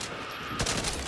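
A brief burst of rapid SMG fire from the video game Back 4 Blood, a dense rattle of shots starting after a short quiet moment.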